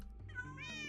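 A tamed cat in a video game gives a single close, drawn-out meow that rises and wavers for about a second, heard on its own.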